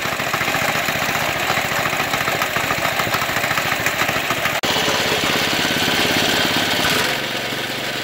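A kids' mini bike's small two-and-a-half-horsepower engine roars at full throttle, a loud continuous rattling drone with a brief click midway and a slight drop near the end.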